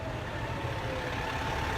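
A fire engine pulls up and idles at the scene of a dog rescue from a hot car, its heavy diesel engine giving a steady, loud, low rumble throughout with no break.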